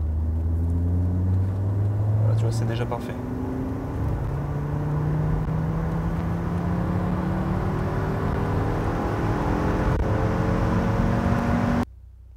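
An Audi RS3 engine running steadily during a workshop test, a continuous low drone with slowly rising harmonics, close and loud throughout before cutting off at the end; a voice speaks briefly over it.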